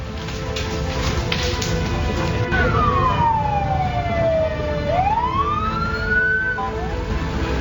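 A fire truck siren wails at a building fire in Bekasi, Indonesia, sweeping down and back up in pitch, loud over rumbling street traffic.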